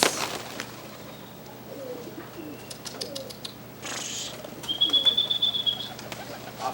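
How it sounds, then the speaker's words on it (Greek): Pigeons kept in a loft, with soft low cooing and rustling, a brief flurry of wing flaps and a thin high whistle, fairly close and without talk. "Αυτά είναι τα περιστέρια, φίλε μου."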